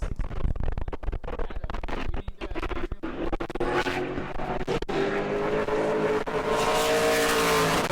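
A pro late model race car roars past on a qualifying lap at New Smyrna, its loud engine note building and sweeping by close, then fading into a sustained drone.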